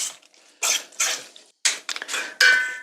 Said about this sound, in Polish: Mieszam to wszystko razem.